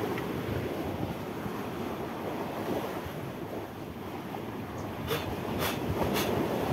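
Sea surf rolling in at high tide on an Indonesian coast, a steady broadband wash of waves with wind buffeting the microphone, continuous and fairly loud throughout, with a few brief higher whistling tones near the end.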